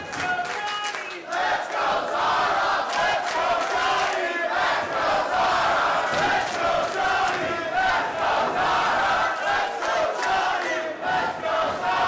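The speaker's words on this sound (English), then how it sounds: "Crowd's affection dueling in support for both challenger and champion" A women's pro wrestling crowd roars and chants in competing waves for challenger and champion at a West Coast Pro title match, loud and continuous with rhythmic shouted bursts.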